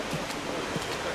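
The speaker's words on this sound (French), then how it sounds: "Toujours ce petit torrent" Small mountain torrent running down past a greenhouse at a koi farm in Japan, a steady broadband rush of water that stays close and even with no breaks.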